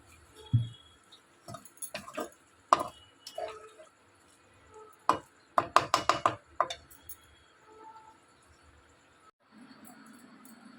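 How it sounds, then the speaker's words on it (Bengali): A rolling pin working flour dough for paneer rolls in a home kitchen, heard as close, irregular wooden knocks and taps against the board, in scattered clusters with quiet gaps between. "মা এখন ময়দাটা বেলছে।"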